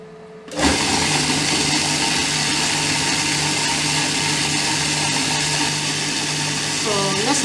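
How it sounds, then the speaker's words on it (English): A blender whirs steadily while jollof rice ingredients are pureed into a smooth paste, its motor starting abruptly and holding a loud, even drone throughout. "you want to blend it to a paste"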